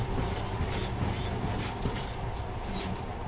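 A monorail train in Metro Last Light rumbles along its track, a steady low mechanical roar with rattling clatter and faint squeals, continuous and close.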